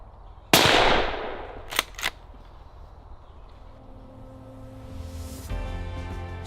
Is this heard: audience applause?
no